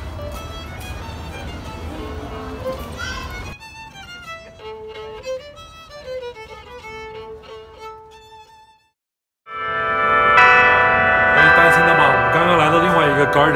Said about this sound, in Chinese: 正好这个钟声每15分钟它就会敲响，是100个吊钟敲响